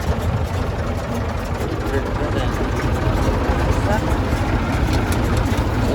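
A heavy IMT 539 tractor engine drones steadily and loud throughout, running its PTO shaft while baling, with a constant low mechanical rumble and a voice speaking over it.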